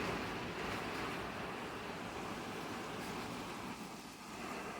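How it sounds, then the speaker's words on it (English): Strong wind roars and buffets the microphone steadily, a dense rushing noise with no voices. "look at the wind."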